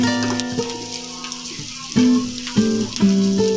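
Onions fry in a pan for an Andhra-style fish curry, a close, continuous sizzle with occasional stirring knocks, heard beneath background music.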